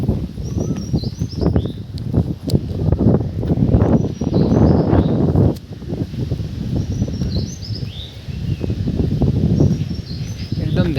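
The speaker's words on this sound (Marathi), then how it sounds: "नाही कसला आवाज, फक्त पक्ष्यांचा आवाज." Birds chirp repeatedly in the countryside near the base of the Kalsubai trek in Maharashtra, with bright high calls recurring in short bursts over steady rustling, wind and low background noise.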